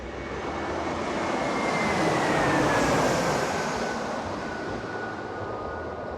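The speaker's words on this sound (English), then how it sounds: "the airport is right here, and people are gonna fly right over our head." A jet airplane passes low overhead near an airport in Thailand, a loud broadband roar that swells to a peak and then slowly fades, with a thin whine riding above it.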